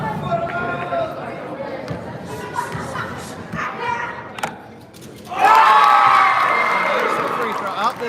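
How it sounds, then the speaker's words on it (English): Crowd at a varsity basketball game at Buffalo cheering and shouting, a steady murmur of voices with scattered calls that swells into a loud burst of cheering and whistles midway, then stays raised. "This has turned a little bit into the 2 crowds cheering for and maybe against"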